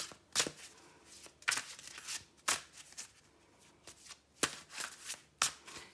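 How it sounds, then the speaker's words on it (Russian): A deck of tarot cards being shuffled by hand, with a series of crisp riffling bursts at irregular intervals, each sharp at the start and then trailing off, close and fairly quiet with no talking. "Перемешаем наши карты."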